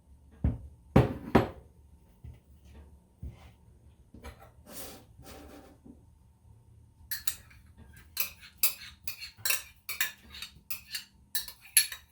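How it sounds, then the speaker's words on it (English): A utensil clinks and scrapes against a bowl while BBQ drumstick sauce ingredients are stirred, with scattered knocks at first and then a quick run of rhythmic metallic taps near the end. "just stir it"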